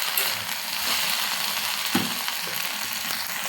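Okra fries in an open pan with no lid, producing a dense, continuous sizzle close to the mic, with a few scraping knocks from stirring partway through.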